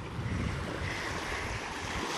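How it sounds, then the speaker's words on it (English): Strong wind buffets the microphone on a Lake Huron beach beside a shipwreck, with surf washing in behind it, a steady loud rumble throughout and no talk. "I'm trying to block some of the wind."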